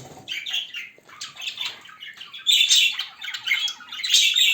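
Several budgerigars squawk and chirp in harsh, overlapping bursts from close by, getting busier and louder in the second half with no talking.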